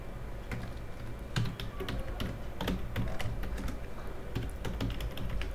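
Fingers typing code on a computer keyboard, with steady close key clicks in irregular bursts over a noisy room background and no talking.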